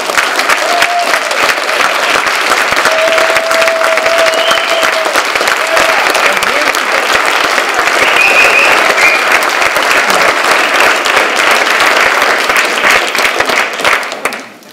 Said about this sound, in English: I would like you to give your applause now,